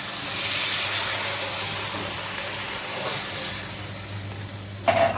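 Hot water poured into a pan of Assamese-style muri ghonto sets off a loud, steady steaming hiss and sizzle that gradually eases, ending with a short clunk.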